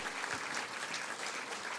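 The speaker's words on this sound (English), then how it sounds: "Would you guys join me in giving her a round of applause?" Brief, steady applause from the audience at a community cabinet gathering, a dense wash of many hands clapping, moderately distant and fairly soft, with no pauses.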